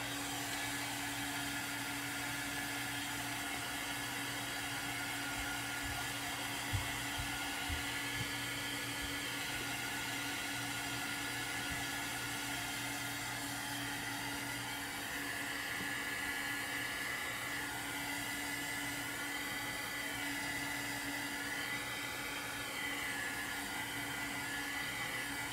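A hair dryer quick-drying smeared ink on a chalk craft project, a steady, even whir held for the whole stretch at a moderate distance, with no talk.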